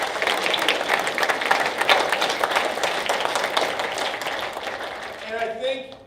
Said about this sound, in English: So let's give Lisa and Chastity one more big round of applause.